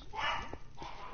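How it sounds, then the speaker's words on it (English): A dog barks loudly during a Minecraft stream, a few quick yelping barks up close, fairly faint in level, with some voice-like sounds mixed in. "dog is being loud and obnoxious"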